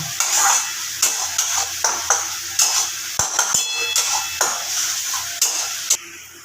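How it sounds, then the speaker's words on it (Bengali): Spice masala for spicy liver chorchori being sautéed in a pan, a steady hiss of frying broken by regular scrapes and knocks of a stirring spoon, close and fairly loud, with no voices. "এবার আবারও আমি খুব ভালোভাবে কষিয়ে নেব মশলার কাঁচা গন্ধটা চলে যাওয়া পর্যন্ত"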